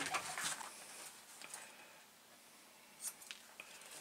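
Scissors make faint, sparse snips as reference marks are cut into upholstery for a Harley tour pack pad. A few short, crisp clips come at irregular intervals over a quiet background.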